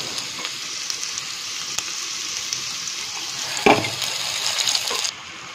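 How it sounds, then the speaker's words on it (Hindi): Chopped onions sizzle steadily in hot oil in a pan for pav bhaji, a constant bright frying hiss with a brief clatter of stirring partway through, heard alone and close. "चलिए अनियन को ब्राउन होने तक हमें इसको फ्राई करना है।"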